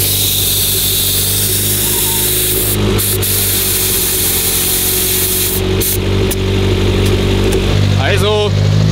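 A Porsche drives at about 300 km/h, making a loud, constant roar of engine, wind and road noise from inside the car. Voices talk over it, with a couple of brief rattles and bumps.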